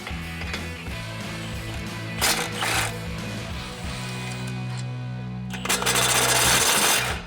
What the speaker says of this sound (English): we're going to need a 21mm swivel socket and an impact to remove these 2 bolts right here